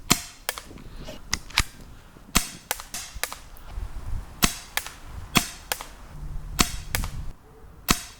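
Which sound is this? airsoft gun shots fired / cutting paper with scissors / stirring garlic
airsoft gun shots fired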